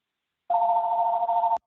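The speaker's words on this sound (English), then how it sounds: "Somebody has their phone ringing and their mic on." A telephone rings over an open microphone during a remote planning commission meeting, a single steady electronic tone lasting about a second, loud and clear against silence.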